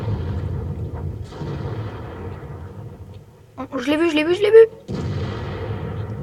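An SU-100 fires its cannon in the video game World of Tanks, a single boom with a whining, sweeping tail, while someone talks in French before and after the shot.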